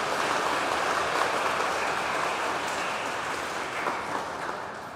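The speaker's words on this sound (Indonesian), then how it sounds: "Kita tepuk tangan sekali lagi untuk ketua panitia." At an Easter Sunday evening Mass, the congregation claps for the committee chair in a steady, moderately loud wash of applause that continues throughout with slight swells.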